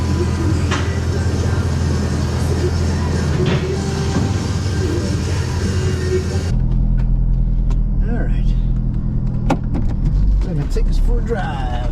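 A 1999 Corvette, freshly fitted with a new rear main seal and rack and pinion and realigned, rolls down the road with a steady engine drone and constant road noise, with muffled voices in the cabin.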